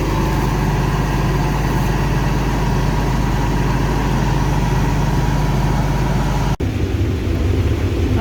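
A combine harvester works through a field of corn with a steady, heavy, droning engine rumble held close and continuous, broken by a single sharp click near the end.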